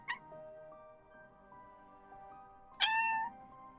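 A pet cat meows over a quiet tonal background, with a soft cry near the start and a louder, drawn-out meow close by toward the end.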